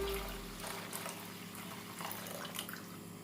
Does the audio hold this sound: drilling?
no